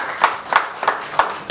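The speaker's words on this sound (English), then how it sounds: "Let's applaud her for that." Five sharp, evenly spaced hand claps at a corporate customer reward dinner, close and distinct, with a slow, steady beat rather than a full burst of applause.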